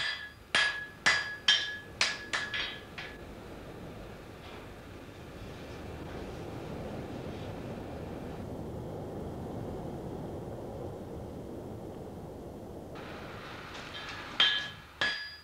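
A rapid series of sharp metallic hammer strikes ringing out as a blacksmith forges a hot iron shoe for a working cow, then a long low rumbling hum, with a couple more strikes at the end.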